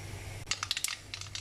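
Rapid, sharp little pops and crackles of mustard seeds bursting in hot oil, close and fairly faint, scattered over a low steady hum.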